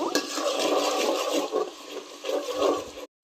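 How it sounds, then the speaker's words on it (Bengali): Ginger-garlic paste hits browned onions in hot oil, giving a brisk, close sizzle that hisses steadily for about three seconds before cutting off abruptly. "এখন আমি একটু আদা রসুন একসাথে পেস্ট করা দিয়ে দিব।"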